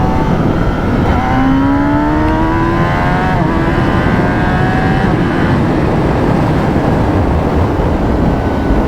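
A motorcycle with a 2 Wheel DynoWorks tune revs up hard, its exhaust note climbing in pitch through the gears, loud and close, then settling into a rough, steady roar.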